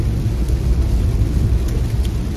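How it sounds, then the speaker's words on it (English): Heavy rain drums steadily on a car while driving, a dense, continuous low roar with a constant rush and no pauses, loud and close throughout. "why are you raining like this?"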